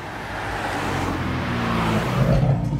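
A car with an aftermarket exhaust arriving at a beach car park-off, a steady low engine rumble building slightly in loudness as it draws near, with no talking.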